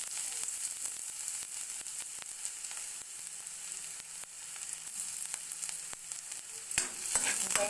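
Garlic sizzles steadily in a hot frying pan while ginisang patola with misua is being cooked, a close, continuous crackling hiss with small spattering pops throughout.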